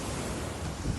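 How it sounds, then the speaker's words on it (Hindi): High ocean waves driven by Storm Kirk in the Azores, heard as a continuous loud roar of surf mixed with heavy wind buffeting the microphone, with no voices. "समुद्र में उठी ऊंची ऊंची लहरें"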